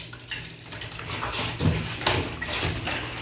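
Hot water sloshing and splashing in a basin for washing, with soft irregular pours and swishes close by, fairly quiet, no talking.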